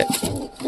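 A pigeon gives a single brief soft coo, close and fairly quiet.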